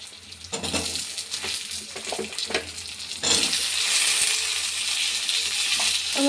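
Diced potatoes and kalmi greens (water spinach) fry and get stirred in a pan. A soft sizzle is broken by scraping strokes of the spatula, then a louder, steady hiss of frying rises and fills the rest of the stretch.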